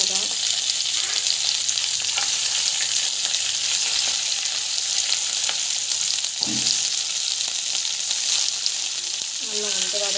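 Onion and chili fry in hot oil with a loud, dense, steady sizzle that fills the whole stretch, close up and without talk.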